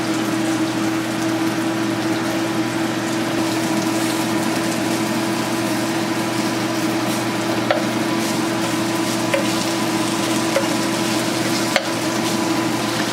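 Beef pieces frying in a pan for a stir fry, giving a steady, even sizzle that runs without break, with a few faint clicks and no talking.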